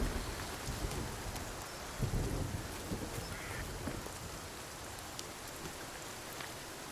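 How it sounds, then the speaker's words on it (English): In the Sons of the Forest video game, a storm rains steadily and fills the scene with dense hiss. A low rumble of thunder swells briefly beneath it. No voices are heard. "as a crack of thunder comes through"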